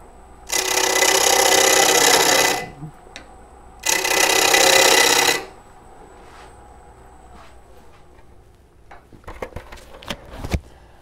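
A woodturning tool cuts a live-edge wood bowl with an embedded nut on a lathe, giving two loud, sustained rasping passes of about two seconds each, then quieter scattered clicks and knocks.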